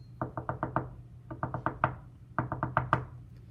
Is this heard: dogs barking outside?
no